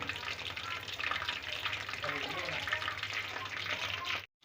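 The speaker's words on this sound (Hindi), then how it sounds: "बिल्कुल लो टू मीडियम फ्लेम पर हमने इनको फ्राई करना है।" Beef qeema samosas deep fry in oil over a low-to-medium flame, a dense continuous bubbling sizzle heard up close that cuts off abruptly at the end.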